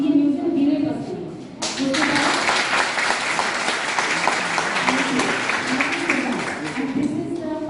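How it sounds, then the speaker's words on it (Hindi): An audience breaks into loud, sustained applause at a public event, dense clapping that swells after a short stretch of talk and keeps going with voices faintly underneath. "तो एक बार इतनी जोरदार तालियां बजाओ"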